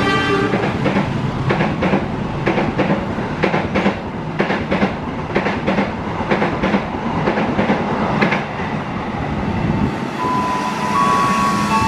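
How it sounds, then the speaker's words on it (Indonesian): Compartment passenger train with rare pre-revision livery on its first test run, loud and close, steady rumble with repeated clickety-clack of wheels over rail joints, a thin tonal whine entering near the end. "inilah uji coba pertama kereta kompartemen"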